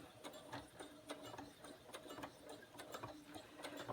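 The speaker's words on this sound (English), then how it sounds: "I'm going to do a back stitch across first" A sewing machine back stitching across fabric for a face mask, with a rapid, quiet mechanical ticking and whirring in an even rhythm, heard alone.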